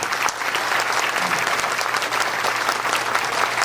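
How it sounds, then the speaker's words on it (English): Steady applause from a room full of people at a rally dinner in Toronto, a dense even clatter of clapping hands that holds throughout. "we should all join in a big round of applause for Elaine and Brian and Alex"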